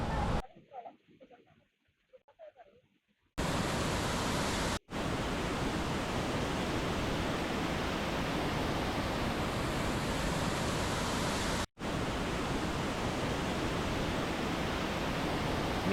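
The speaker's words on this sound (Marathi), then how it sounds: "धबधबे असे ओसांडून वाहत आहेत सह्याद्रीमध्ये" A monsoon waterfall near Varasgaon, Pune, in the Sahyadri hills pours with a loud, continuous rushing roar, following a few seconds of quiet voices at the start.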